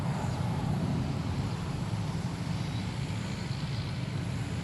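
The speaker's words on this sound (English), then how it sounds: "this Cape Air at the end there, behind the Delta, clear for takeoff, heading to Nantucket." A Cape Air plane takes off from Boston Logan airport behind a Delta jet, bound for Nantucket, its steady low engine roar filling the clip at a constant loud level with no voices.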